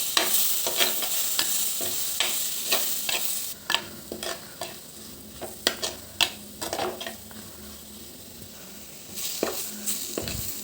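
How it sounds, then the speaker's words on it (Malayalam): Turmeric and chilli powder being stirred in a frying pan for sardine curry: a soft sizzle under a brisk run of spoon taps and scrapes against the pan, with bursts of clacking near the end and no speech. "രണ്ട് സ്പൂൺ മുളക് പൊടി ഇട്ടെടുക്കാം എന്നിട്ട് നന്നായിട്ട് ഇളക്കി കൊടുക്കാം"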